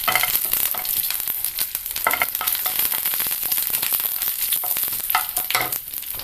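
Dried red chillies crackling and sizzling in hot oil for a green tomato thoran, with bright spattering bursts and stirring over a continuous fry, close and fairly loud.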